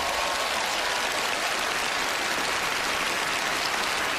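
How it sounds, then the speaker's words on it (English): Steady, dense applause from a TV magic show studio audience, a continuous wash of clapping with no voices standing out, holding evenly throughout. "A warm round of applause will follow you up here."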